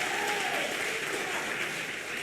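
A church congregation claps together during a Sunday worship service, a sustained wash of applause at moderate level lasting the full clip with faint voices mixed in.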